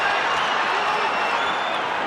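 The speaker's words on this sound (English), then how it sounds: "Crowd's loving it." A boxing crowd cheers and applauds in a dense, continuous roar of voices and clapping, loud and steady throughout with no breaks.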